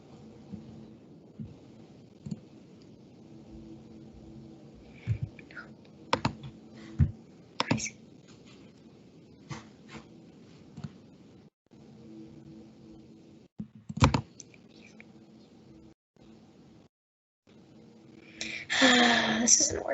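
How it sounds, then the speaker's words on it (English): Sparse mouse clicks and keyboard taps sound close during a computer math game, scattered single clicks over a quiet room tone with speech mixed in. "I keep on clicking what I know is the right answer."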